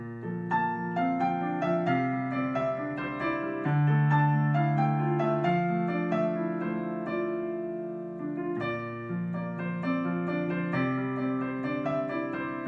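Solo piano playing a piece, a flowing melody over repeating low left-hand chords, clear and close with steady moderate volume and no voices.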